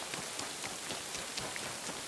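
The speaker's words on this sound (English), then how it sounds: "Oh, it's still raining." Steady rain falls in the medieval open-world game Kingdom Come Deliverance 2, a dense, even hiss of drops on surfaces with scattered brighter patter, continuous and fairly loud with no talk.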